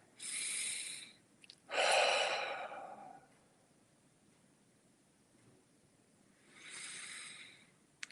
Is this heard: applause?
no